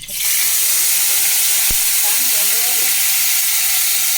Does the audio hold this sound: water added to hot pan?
yes